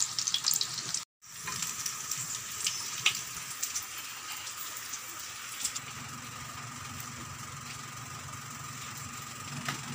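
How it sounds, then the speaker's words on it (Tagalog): Dried danggit fish frying in a pan with a steady, close sizzle and crackle throughout, interrupted by a brief silent gap near the start. "Tapos na tayo nagprito ng danggit."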